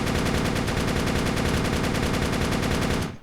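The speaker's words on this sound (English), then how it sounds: "let's just shoot it from the hip fire." An MG240 machine gun fired from the hip in the video game Darkest Days, one loud unbroken burst of rapid automatic fire lasting about three seconds before cutting off abruptly.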